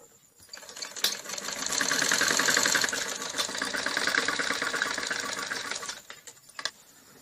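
A sewing machine runs one long continuous stitch along the folded edge of a khajuri salwar, a close, steady rattling whir that speeds up midway and then stops with a few clicks.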